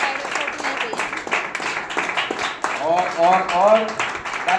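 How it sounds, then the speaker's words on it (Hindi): An audience at a school program claps to welcome police officers, scattered lively clapping mixed with voices and cheering, growing louder toward the end. "जोरदार तालियों के साथ।"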